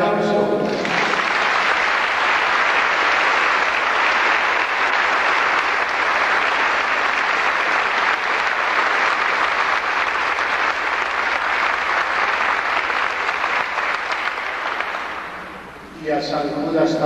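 Loud, dense crowd applause at a religious procession event in Callao, a sustained roar of clapping that continues for about fifteen seconds before dipping briefly near the end as other sound resumes.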